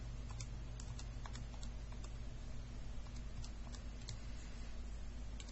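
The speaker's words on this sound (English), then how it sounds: "So we can go ahead and type that into our calculator." Calculator buttons tapped in a quick, irregular run of light clicks, close and fairly quiet over a steady low hum, with no talking.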